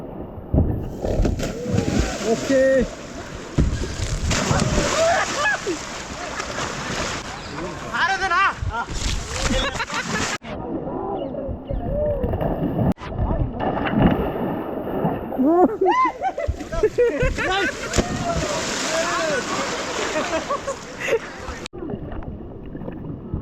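River rafting on the Dubare river in Coorg, Karnataka, as people slide off an upturned raft and plunge into the water. There is rushing water and splashes, wind buffeting the microphone, and voices talking and shouting throughout.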